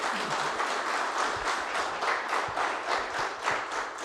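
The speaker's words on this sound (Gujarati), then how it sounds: "એવા દસ્તુર સાહેબ આજે આપણી વચ્ચે છે અને તાળીઓથી આપણે એક વખત એમને વધાવીએ." An audience at an Ahmedabad Management Association event applauds to welcome a guest speaker, with many hands clapping in a dense, steady patter that continues evenly throughout.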